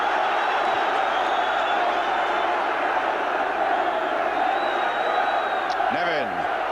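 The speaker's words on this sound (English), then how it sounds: "Just listen to this crowd now." Large football stadium crowd of about 33,000 at a Chelsea match, a continuous, loud roar of cheering and chanting heard from within the stands, with a brief rising call near the end.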